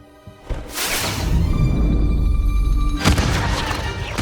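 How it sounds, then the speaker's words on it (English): A misfiring wand in Hogwarts Legacy sets off a fireworks burst, a whooshing blast swelling into a sustained crackling roar, then a second sharp burst, under a faint musical hum. "Fireworks!"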